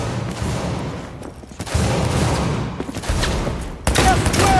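Rapid gunfire from a firefight in the video game Cyberpunk 2077, loud and dense, with bursts of shots running nearly continuously and a brief lull before the firing picks up again.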